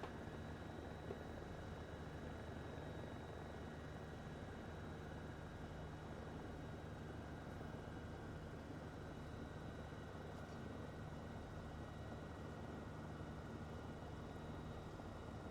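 A small aircraft's engine throttling back in a flight-simulator game: a steady, even drone with a constant propeller hum that holds unbroken throughout, with no talking.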